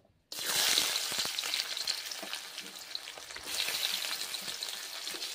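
Onion hits hot oil in a wok with a sudden loud sizzle that flares then eases into a steady crackling fry, swelling again toward the end as it is stirred.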